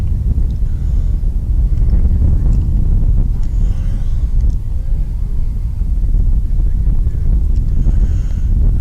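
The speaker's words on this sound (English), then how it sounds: "A nice steady wind again." Steady wind buffeting the microphone at a high school baseball game, a continuous loud low roar that never lets up.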